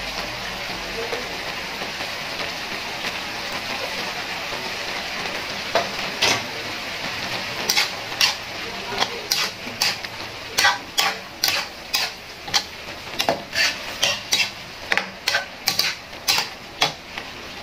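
Chopped tomato frying and being stirred into bopis in a pan, a low steady sizzle under a run of sharp, rhythmic spoon scrapes and taps against the pan that grow regular and loud in the second half.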